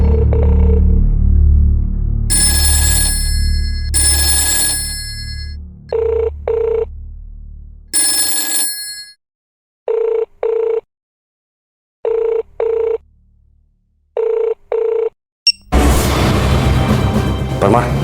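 A telephone rings repeatedly in short paired trills, loud and close, after a heavy rumbling intro, ending in a burst of noise.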